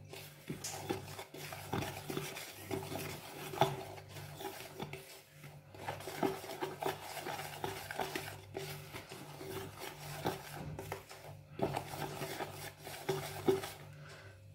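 Dry yeast being stirred into flour in a bowl for brioche bread dough, a steady rhythmic scraping and rubbing repeated many times, close and fairly quiet with no talking.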